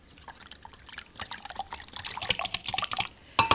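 A whisk or fork works through egg, milk and Worcester sauce in a bowl for savoury muffin batter, giving wet irregular splashy clicks that quicken and grow louder, close by with no talking.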